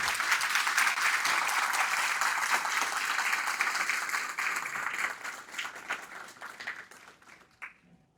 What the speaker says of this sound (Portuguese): Eu queria que vocês dessem uma salva de palmas para eles